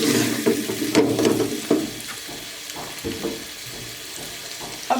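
Sarson ka saag cooking in a pan over medium heat, a soft continuous sizzle with gentle stirring scrapes and small clinks, close and steady.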